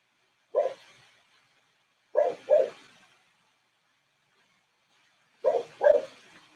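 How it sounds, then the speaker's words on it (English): Indoors, a dog named Scooby barks, one single bark followed by a quick double bark and later another double bark, moderately loud with silent gaps between the outbursts. "I don't know what Scooby's barking at."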